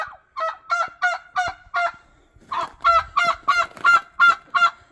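A turkey hen calls loudly and repeatedly in a farmyard, a rhythmic series of harsh, honking yelps in two runs separated by a brief pause, close and clear with no talking.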